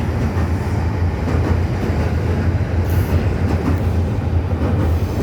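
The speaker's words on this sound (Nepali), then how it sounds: "ट्रेन पनि गयो।" A train rolls past on railway tracks, a loud, continuous rumble with a rhythmic clatter of wheels over rail joints that stays close and heavy the whole way through.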